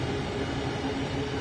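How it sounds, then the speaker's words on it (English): Steady hum of Class 395 train traction motors in Train Sim World 2, a broad, constant droning noise with no voices. "Now, traction motors."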